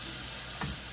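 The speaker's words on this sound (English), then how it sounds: "you're gonna hear a lot of sizzling today" Garlic sizzles in a hot frying pan while bok choy is being cooked, giving a brief, steady hiss with a small spike of crackle near the end.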